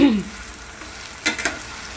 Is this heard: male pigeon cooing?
no